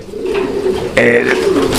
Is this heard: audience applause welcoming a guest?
no